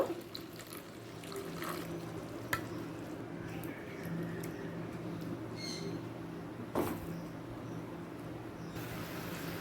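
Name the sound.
milk curry coming to a boil in the pan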